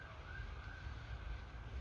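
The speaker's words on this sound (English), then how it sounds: "The natural sirens, they come up every time." Faint, distant emergency vehicle sirens wail steadily outdoors beneath a soft bed of wind noise, with no talking.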